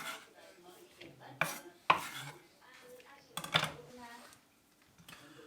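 A knife cuts food on a board while preparing a Thai beef salad, several irregular close thuds and scrapes against faint kitchen clatter, with a voice talking in between.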